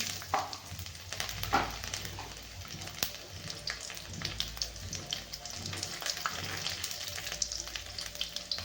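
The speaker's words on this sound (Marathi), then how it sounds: "तेल चांगलं गरम झालेलं आहे आपण टाकणार आहे थोडीशी मस्त मोहरी टाकणार आहे" Mustard seeds, cumin and garlic frying in hot oil for a village-style sprouted-legume curry, a steady crackling sizzle with scattered sharp pops of spluttering seeds, close and continuous with no talk.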